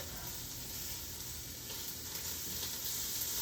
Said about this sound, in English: Browning your meat a little bit adds also a additional flavor.